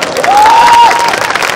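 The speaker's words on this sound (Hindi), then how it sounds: "मेरे को जोरदार तालियां बजाओ" Loud, dense applause from a crowd, with cheering mixed in and a whistle-like tone rising briefly in the middle.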